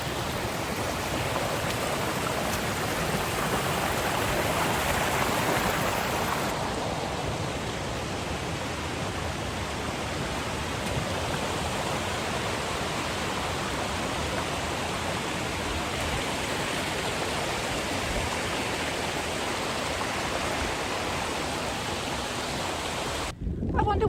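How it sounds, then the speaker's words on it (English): Mountain stream after heavy rain, flowing along a hiking path in a steady, broad rushing wash of water that stays loud and continuous throughout. "We are going to be walking through a stream."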